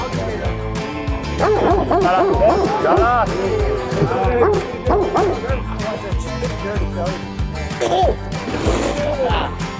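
Several dogs bark and yip repeatedly, close and loud, with a few whimpers, while people talk over the commotion.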